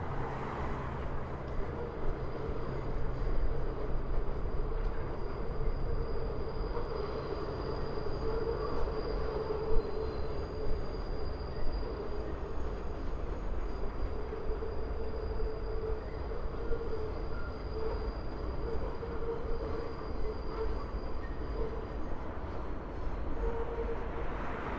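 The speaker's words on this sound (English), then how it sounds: "the number 7 train turning from the Court Square subway station, heading to Hunters Point Avenue" A New York number 7 subway train turns out of Court Square station toward Hunters Point Avenue, heard from a distance as a steady, faint rumbling roar with a thin metallic squeal running over it the whole time.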